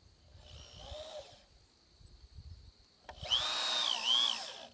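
Power drill driving screws to join the sides of a large birch arch, two separate whirring bursts, the second louder and longer with rising and falling pitch, close by with quiet gaps between.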